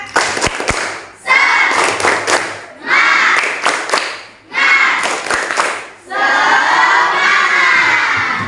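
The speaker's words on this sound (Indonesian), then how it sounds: "Bu Umi pengen tahu tepuk semangatnya. Tepuk semangat" A class of schoolchildren loudly performs a 'tepuk semangat' clapping chant, shouting together in several bursts with rhythmic claps, each burst separated by short pauses, close and energetic.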